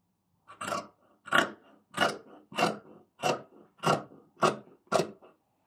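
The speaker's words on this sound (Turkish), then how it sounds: "Birer santim dikiş payıyla korsajlarımızı kesiyoruz." Eight steady, evenly spaced snips of scissors cutting fabric bodice pieces for a pleated skirt, close and crisp, with no voices.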